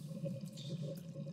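Cold running water rinses a plastic Amiga 1000 computer case in a steady, soft gurgling stream with faint splashes as the water plays over the plastic.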